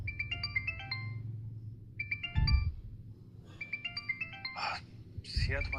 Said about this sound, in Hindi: सिया तुम्हारा फोन बज रहा है।